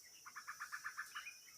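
Outdoors in a wild natural spot, a quick run of about nine evenly spaced chirps rises and falls over a faint, steady high hiss. The calls are soft and fairly distant, with no one talking.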